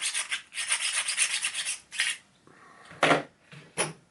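Rubbing and rasping strokes on dinged-up steel weights, a quick run of scrubbing passes followed by a few separate, sharper scrapes, close and fairly loud with no talking.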